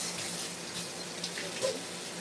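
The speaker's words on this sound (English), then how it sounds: "Cold water rinse." Tap water runs steadily into a kitchen sink for a cold rinse during dishwashing, a continuous hiss of flow with a few faint clinks, heard fairly close and alone.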